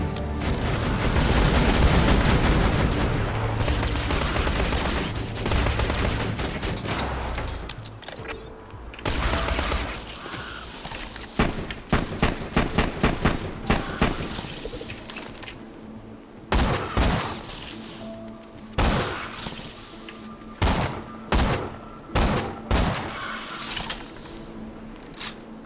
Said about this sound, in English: Load that turret!